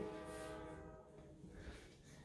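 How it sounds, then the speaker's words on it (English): A train horn sounds in the distance near a house in Fresno, a faint sustained tonal blast that fades out over a couple of seconds, with no voices. "You can also hear the train."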